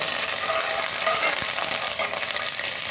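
Curry leaves and dried red chillies sizzle in hot oil for a tempering, a steady close crackling fry with a few sharper pops, alone without talk.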